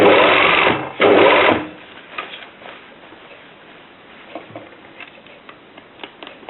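A sewing machine stitches gathered fabric 1.5 cm from the edge in a tubular gathering seam, running in two loud close bursts over the first second and a half, then quieter scattered ticks and fabric handling.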